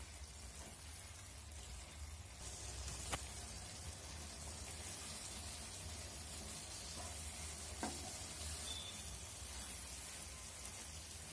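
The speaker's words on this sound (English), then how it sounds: "then give it a good mix." Bitter gourd curry sizzling and frying in a pan while being stirred, a steady crackling hiss throughout with occasional sharp clinks of the spoon against the pan, close and fairly quiet, no talking.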